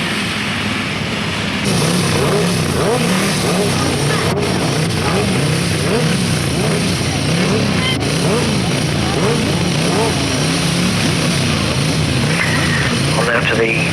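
Grasstrack racing motorcycles with sidecars rev and roar in a loud, continuous engine drone at a 1991 meeting, with a voice talking throughout.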